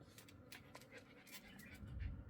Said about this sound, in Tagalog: Ayan yung dalawa aso.